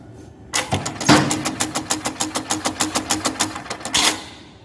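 A Juki LK-1900A bartack sewing machine runs at a main speed setting of 400, starting with a thud and then stitching in a steady, rapid series of sharp mechanical clacks before stopping, close and loud with no talk.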